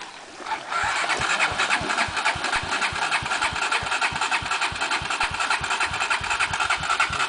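An engine cranks briefly, catches, then settles into a loud, close, rapid idle chugging steadily with a fast even pulse, no voices.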